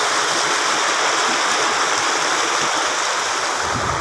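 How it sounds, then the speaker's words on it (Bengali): Strong water current rushes at a rubber dam near a bridge in Dinajpur, Bangladesh, a loud, close, continuous roar of churning flow that never lets up. "পানির স্রোত দেখেন আপনারা দেখতে পাচ্ছেন, পানির স্রোত সুন্দর পানির স্রোত।"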